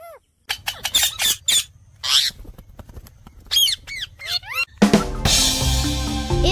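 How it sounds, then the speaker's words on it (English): A jungle parrot lets out loud, harsh squawks, several sharp calls in irregular bursts separated by short gaps, followed by a denser burst of noisy sound at the end. "It's a parrot."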